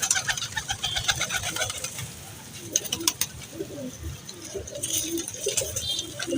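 Pigeons coo repeatedly in soft, throaty bursts, close by, with light patter and occasional mechanical clicks around them.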